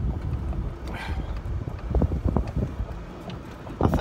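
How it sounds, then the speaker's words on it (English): Wind gusting across an open golf course on a chilly day, a broad low rumble with buffeting bursts against the microphone, steady throughout with stronger gusts near the middle and end. "Wind's blowing"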